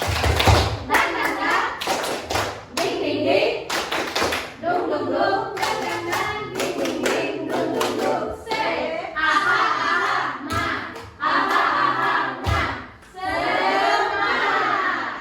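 A group performs tepuk semangat, a rhythmic spirit clap, at a teachers' positive-culture sharing forum, sounding as loud patterned bursts of clapping with short pauses between phrases and some voices calling out along with it.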